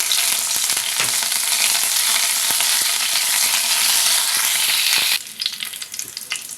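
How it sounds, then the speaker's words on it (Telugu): Hot oil crackles and sizzles loudly with sharp pops as curry leaves hit the pan during tempering, then the sizzle settles into a softer, quieter fry. "తాలింపు అంతా వేగింది ఇప్పుడు కరివేపాకు వేసుకుందాం"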